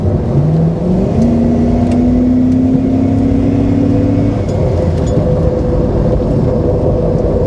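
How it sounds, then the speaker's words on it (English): A 1998 Jeep Grand Cherokee ZJ with the 5.9 V8 revs on an off-road trail, its engine note climbing steadily and then holding over a loud, constant rumble, close and continuous with no talking. "Let's give it a little bit of gas."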